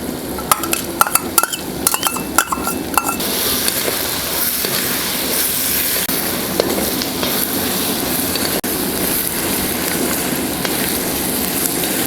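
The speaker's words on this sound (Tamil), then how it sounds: "வெங்காயம் வதங்கும் போது இதையும் நம்ம சேர்த்து நல்லா வதக்கிக்கலாம்." Ginger and garlic sauté with onions in a pan, a loud continuous sizzle with clinks of a utensil against the pan early on, then steady frying hiss.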